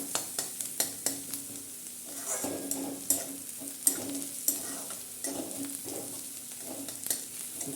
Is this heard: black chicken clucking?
no